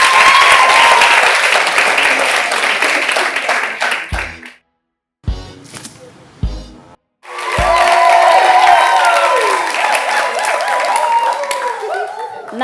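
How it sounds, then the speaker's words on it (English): A studio audience at a talk show applauds two guests, one of them a senator representing the FCT. Loud sustained clapping fades to near silence twice in short breaks, then swells back into a full round of applause. "Give both of them a round of applause."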